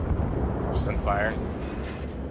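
Warship guns fire in a World of Warships naval battle, with a Myoko cruiser loading armor-piercing shells, as a deep rumbling blast that rolls under a brief spoken word.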